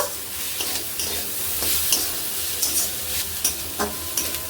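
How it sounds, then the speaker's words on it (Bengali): Onions frying with chicken masala in a pan hiss and sizzle steadily while a utensil stirs them, adding scraping clicks at an irregular rhythm, close and fairly loud, with no voices. "দিয়ে একটু নাড়াচাড়া দিয়ে নামিয়ে নেব।"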